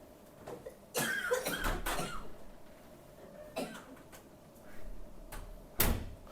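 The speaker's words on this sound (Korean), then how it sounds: "말을 못할 정도 계속 기침을 한다는 거는" A person coughs repeatedly in harsh, uneven bursts, a cluster near the start followed by scattered single coughs, close and fairly loud against a quiet room.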